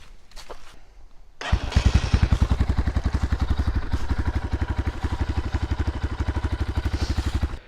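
Geon Terrax 250 Pro motorcycle engine, in like-new condition, catching after a brief crank and settling into a loud, steady, rapid thumping run close by, with no talk over it.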